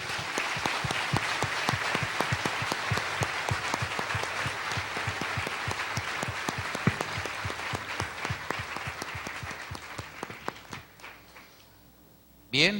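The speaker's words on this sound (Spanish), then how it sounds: "dele un fuerte aplauso" A congregation at a spiritual renewal seminar gives loud, rapid clapping for about ten seconds, then it thins out and fades, with an abrupt noise burst at the very end.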